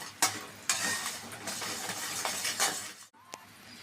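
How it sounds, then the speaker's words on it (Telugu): A utensil scrapes, presses and stirs melting jaggery in a pan in repeated strokes, with a soft sizzle underneath and a light clink near the end. "ఇలా నొక్కుతూ ఉంటే బెల్లం అనేది కరిగిపోతుంది తొందరగా"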